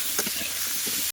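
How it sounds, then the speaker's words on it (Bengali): Arum root (mankochu) frying in a wok with salt and turmeric, a brief close hiss of sizzling oil with a few soft stirring bumps. "মানকচুর মধ্যে দিয়ে দেবো একটু লবণ আর একটু হলুদ দিয়ে কিন্তু ভালো করে আমি কচুটা ভেজে নেব"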